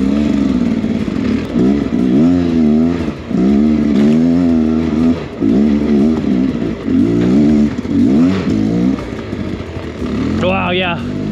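Beta X Trainer dirt bike climbing a snowy trail, its engine loud and close, revving and bogging in an uneven, rising-and-falling buzz that runs without a break.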